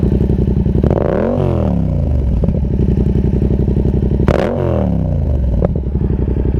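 Yamaha MT-07 fitted with an SC Project Conic exhaust, idling with a deep, lumpy burble, then two sharp blips of the throttle that rise and fall quickly, recorded close and loud.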